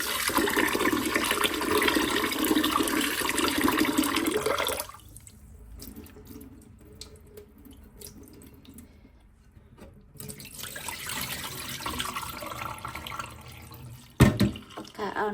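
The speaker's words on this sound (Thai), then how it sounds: "แล้วก็เปิดน้ำล้างอีกนะค" Tap water runs hard into a sink while soaked sticky rice is rinsed, a loud rushing splash that drops to a softer trickle for several seconds before surging back strong, with no one speaking.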